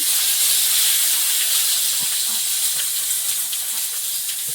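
Panch phoron and bay leaves sizzle in hot oil in a wok, making a loud, steady, bright hiss that continues without a break, with no talking.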